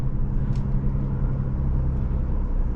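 A 2024 Lexus GX 550 Overtrail crawling slowly over desert rocks at Ocotillo Wells, its engine a low steady rumble close by, mixed with faint cabin and road noise.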